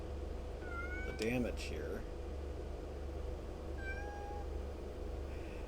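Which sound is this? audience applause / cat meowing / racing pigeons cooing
cat meowing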